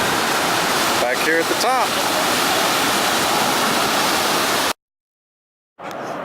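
Lower Falls of the Yellowstone River roar as a steady, loud, broadband rush of falling water heard from a canyon overlook, with brief talk over it before it cuts out to silence near the end.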